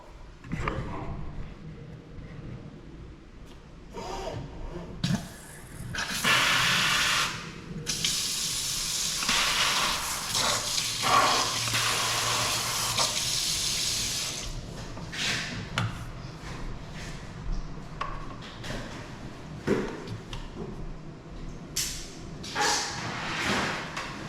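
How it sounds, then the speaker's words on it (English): A faucet in a town home runs water into a sink, a steady loud hiss that starts and continues for long stretches, with brief clanks and handling sounds around it. "over here we got the faucet going"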